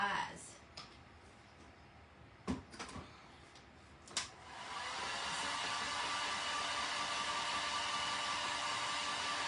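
A handheld dryer blows on wet paint on a snowman craft: a few clicks and taps, then the dryer switches on into a steady, fairly loud whirring hum that continues to the end.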